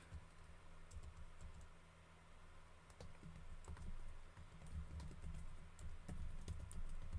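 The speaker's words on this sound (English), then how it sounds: "I'm almost done typing out all the hashtags." Fast, continuous typing on a computer keyboard during a livestream, with soft, close, irregular key clicks rattling on over a low background hum and no voices.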